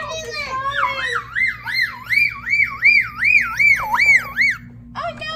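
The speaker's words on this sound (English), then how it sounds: "Oh, no, ambulance. Ambulance! They need an ambulance!" A toy ambulance from a rescue station playset wails with a warbling electronic siren that sweeps up and down repeatedly, loud and close, with a short burst of child-like chatter at the start and end.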